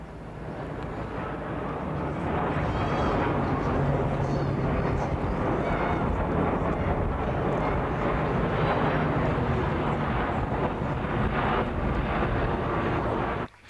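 Loud, sustained roar of military transport planes flying low over the church at Sainte-Mère-Église after a paratrooper drop, a broad engine drone that swells and holds for several seconds before cutting off.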